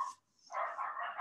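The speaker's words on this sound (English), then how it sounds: "dogs are barking like crazy right now outside" Dogs barking outdoors, heard as a short burst of barks at the start and a louder, sustained stretch after a brief pause, moderately close and with no talk over it.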